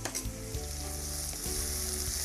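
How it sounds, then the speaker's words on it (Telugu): Tomatoes frying with onions and finely chopped green chillies for a spicy gravy: a steady hiss and sizzle under sustained low tonal background sound, with a short stirring burst at the start. "టొమాటోస్ ఫ్రై అవుతున్నాయండి ఆనియన్స్ అండ్ చిల్లీతో పాటు."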